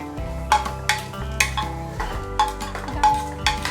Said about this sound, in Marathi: गाजर आणि कांदा हे फ्राय व्हायला थोडासा वेळ लागतो म्हणून आपण आधी गाजर आणि कांदा छान असं फ्राय करून घ्यायचं